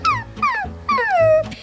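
A dog whimpers and whines in three drawn-out, falling high-pitched cries, loud and close, with no talk.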